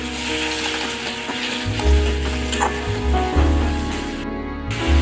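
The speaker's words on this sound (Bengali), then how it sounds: "তারপর একসাথে ভালো করে কষিয়ে নেব" Chopped tomatoes with salt frying in a pan for a pabda fish curry with vegetables, a loud continuous sizzle close by, overlaid with a low humming drone and brief stirring noises.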